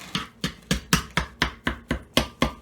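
A knife chopping raw ground sausage meat being seasoned for pizza topping, with about ten steady, evenly spaced, close and moderately loud chops and no talking.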